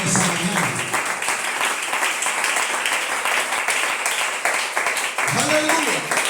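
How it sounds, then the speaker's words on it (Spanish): A church congregation claps loudly and continuously, with voices and shouts of praise rising over the steady applause. "Denle el aplauso fuerte al Señor en esa mañana"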